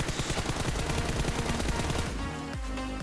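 An M4 rifle fires full-auto in PUBG Mobile from a crouched stance at a target 200 meters off: a rapid, steady stream of loud shots for about three seconds with no pauses.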